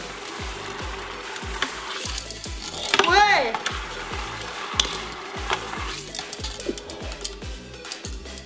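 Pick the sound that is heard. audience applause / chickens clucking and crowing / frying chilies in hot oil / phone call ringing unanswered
frying chilies in hot oil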